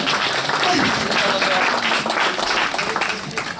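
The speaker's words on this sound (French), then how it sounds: "on peut l'applaudir même s'il n'est pas là" A crowd at a multi-theme expo in Houilles gives dense, steady applause that tapers slightly near the end, with some voices mixed in.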